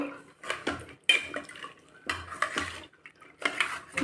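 A spoon scrapes and clinks against a cooking pot while bisibele bhath ingredients are mixed in water, in several uneven bursts of metallic scraping separated by short pauses, close and fairly loud.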